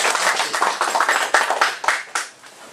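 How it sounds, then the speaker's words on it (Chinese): Audience applause for a speaker at a natural medicine education society lecture on biomimetic agriculture, a dense steady clapping from a room of people lasting a few seconds before tapering off. "来，我们给他鼓掌一下"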